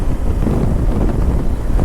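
Loud, constant wind roars and buffets the microphone while riding a Himalayan 450 motorbike on a long highway journey, a dense steady rush with no voices.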